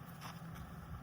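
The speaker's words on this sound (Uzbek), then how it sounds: "Qarang, motor ishlayapti." A home grain crusher's electric motor runs steadily, a dense, continuous hum and whir with broadband mechanical noise, fairly loud and unbroken, while grinding feed grain such as wheat, barley and maize.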